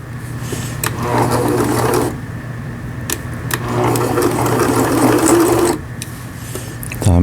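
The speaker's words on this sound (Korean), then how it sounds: "다음에 누빔 바느질을 한 번 더 해보겠습니다." A Juki HZL-50Z sewing machine stitches a quilting pattern with a close, steady mechanical whir in two long runs, a brief pause between them and a clunk at the end.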